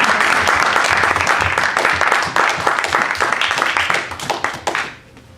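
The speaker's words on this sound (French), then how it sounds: "Est-ce que vous pouvez applaudir le nom du Seigneur comme il est puissant?" A church congregation at a French-language service claps loudly for several seconds, individual hand claps distinct within the dense applause, which thins out and stops near the end.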